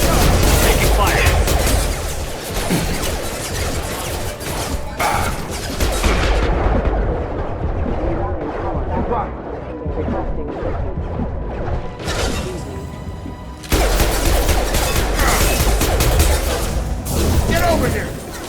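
Sci-fi game combat in Mass Effect 2: dense bursts of gunfire and sharp impacts, loud and close, easing off mid-stretch before the heavy shooting returns, with character voices calling out over it.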